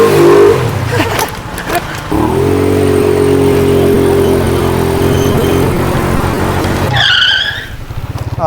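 Motorcycle engine revving hard on a test ride after fitting a TRC CNC universal clutch perch, a loud sustained roar with rising pitch that drops away near the end as a brief tire squeal cuts in.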